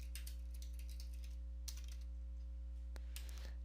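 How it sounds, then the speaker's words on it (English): Quick, light clicking of typing on a computer keyboard, a short burst of soft keystrokes over a steady low electrical hum, faint and close. "we're going to type in group policy"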